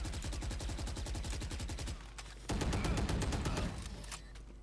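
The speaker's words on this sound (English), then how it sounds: "Your bullets will always land somewhere in between this region of your crosshair" Rapid automatic gunfire in Valorant while the player runs, a steady stream of fast shots that pauses briefly, then resumes in a louder, denser burst before trailing off; no talking.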